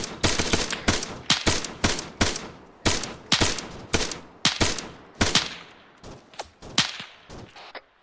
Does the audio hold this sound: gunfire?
yes